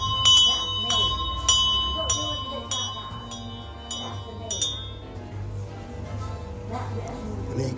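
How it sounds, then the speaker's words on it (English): Several bright metallic bell strikes from an old-fashioned bell at a canal-side shop, ringing out in an irregular run over the first five seconds with a long fading hum after, close by with faint background voices. "They've even got an old-fashioned bell here."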